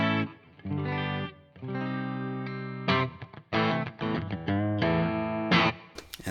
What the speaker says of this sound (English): that is the SLO 100 as it sounds with pure single coils and a tiny bit of reverb